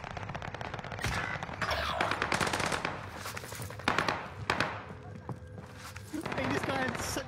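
Video game gunfire during a streamed tournament: dense bursts of rapid automatic shots and single cracks, loud and close, in an irregular rhythm with brief pauses, while a voice talks over parts of the action.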